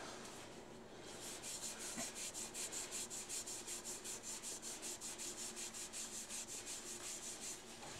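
Yorkshire grit abrasive polish being rubbed onto a turned wooden toothpick distributor spinning on a lathe, a close, rhythmic hissing scrub pulsing steadily about three times a second, with no talking.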